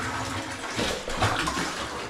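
Water gushes and splashes as it is poured down a soil pipe on a building site to test new plumbing, a steady close pour with brief louder surges, no talk.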